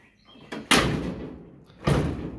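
A 1969 Dodge Charger door with fussy latches is shut twice, each a solid slam with a thud ringing on briefly; the first close is weaker and the second lands firm, with no talk over them.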